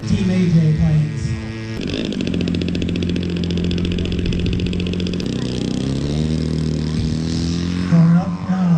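A small AJ Aircraft model airplane engine at a club airshow and fun fly, a steady buzzing drone held throughout at close range, with a voice speaking briefly over it.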